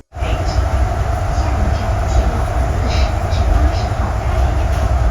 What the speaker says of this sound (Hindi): ये ट्रेन था जो मैंने अभी लिया है टर्मिनल से इधर आने के लिए